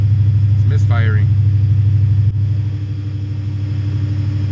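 A 1998 Ford Mustang GT V8 idling with a misfire, a steady low rumble that runs throughout, loud and close, with a brief voice early on and a slight drop in level partway through.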